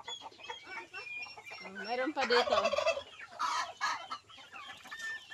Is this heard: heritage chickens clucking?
yes